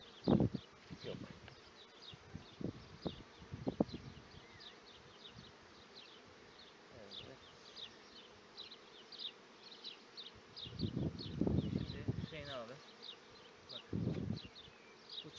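Honeybees buzz around an opened hive during an inspection of the frames, a steady swarm hum with individual bees zipping past close by, while a voice talks intermittently over it.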